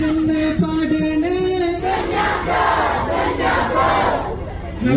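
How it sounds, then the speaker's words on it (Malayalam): A live audience cheers and shouts together, a loud, dense crowd roar that rises after a sung line and holds steady for several seconds. "നിങ്ങൾ തന്നെ കൈയടിച്ചു."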